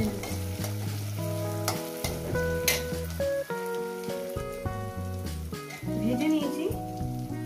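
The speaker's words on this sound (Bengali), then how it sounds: "টমেটোটাকেও আমি 2-3 মিনিট এইভাবে ভেজে নেব।" Tomato sizzles steadily in a hot pan for an egg kosha, with intermittent spatula stirring and crackling spatter, sustained and close throughout.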